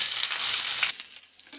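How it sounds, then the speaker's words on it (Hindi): Chopped onion hits hot oil with lightly browned garlic in a pan for dal fry, making a loud, bright sizzle that stays strong for most of a second and then quickly fades to a soft crackle. "हल्का सा गुलाबी लहसुन हो गया, अब हम कटा हुआ प्याज डाल देंगे।"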